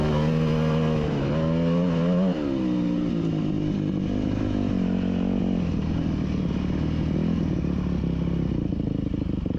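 A dirt bike engine revs hard up a steep cinder hill at Cinder Hills, a loud, continuous rasping drone that rises and dips in pitch as the rider works the throttle and gears.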